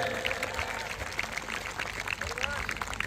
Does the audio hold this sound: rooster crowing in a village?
no